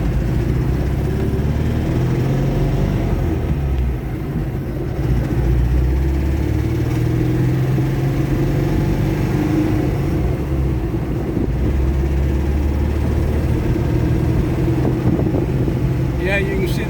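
A 1972 Porsche 914 engine drones steadily while the car drives in first gear, a constant low rumble with road noise, with someone talking over it.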